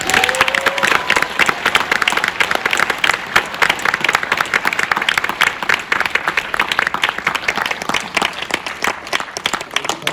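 At a film screening and audience Q&A, the crowd claps for director Lee Sang-ho, a loud, sustained, densely packed round of applause running the whole time.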